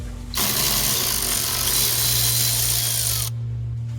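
A ratchet loosens a 10mm nut on a Mercury 60 hp outboard motor, giving a loud, dense run of fast clicking that holds steady for about three seconds and then stops abruptly, with no talking.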